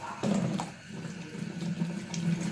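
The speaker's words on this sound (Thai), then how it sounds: "เตรียมล้างหมูกันค่ะพี่น้อง" Tap water runs steadily into a sink while a pork loin is washed, a close, continuous splashing flow with slight shifts as the meat is handled.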